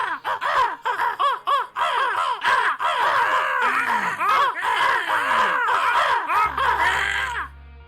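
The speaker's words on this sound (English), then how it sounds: "Fucking crows!" Crows cawing in a dense, loud chorus of harsh, overlapping calls in rapid succession, close by, fading out abruptly near the end.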